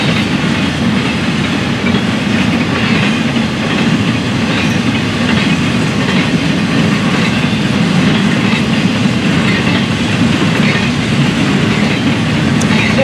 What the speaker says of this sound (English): Watch this train head on to Hold the Main at Rio.